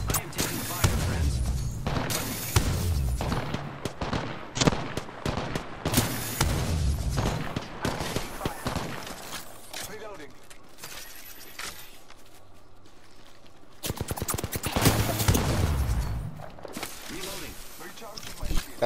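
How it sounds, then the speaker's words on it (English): Gunfire hits the player in a squad shooter: loud, close clusters of rapid shots break out in several bursts, with a quieter lull in between, and people talk over the fire. "I am taking fire, friends."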